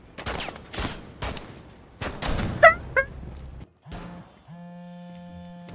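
Gunfire in the tactical shooter Rainbow Six: several loud bursts and single shots in quick succession, followed by a sustained electronic tone and hum as the firing stops.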